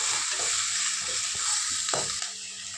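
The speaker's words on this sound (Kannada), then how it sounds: "ಇವಾಗ ತುಂಬ ಕಟ್ ಮಾಡ್ಕೊಂಡಿರುವಂತಹ ಟೊಮೊಟೊನ ಹಾಕಿ ಫ್ರೈ ಮಾಡಿ." Chopped tomatoes sizzling and frying with onions in a pan, a steady broadband hiss running throughout with a couple of brief stirring knocks, close and fairly loud, no talking.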